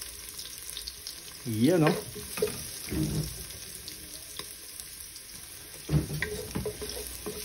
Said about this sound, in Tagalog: Lagay na natin ang ating bawang habang di pa ganong mainit ang mantika.